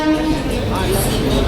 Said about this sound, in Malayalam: ആഗ്ര റെയിൽവേ സ്റ്റേഷനിലാണുള്ള.